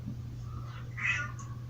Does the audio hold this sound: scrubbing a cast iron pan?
no